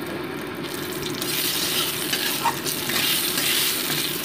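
Dried red chillies frying in hot oil in a wok, a loud, steady sizzle that swells after the first second and crackles on continuously, close and alone.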